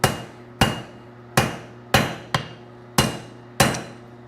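Seven sharp ringing hammer blows strike metal on an anvil during forging, close and loud, spaced at a fairly regular working rhythm with a short metallic ring after each hit.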